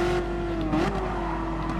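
McLaren 650S supercar in GT Sport, engine holding a steady loud hum, with a brief pitch dip and swell as revs shift midway.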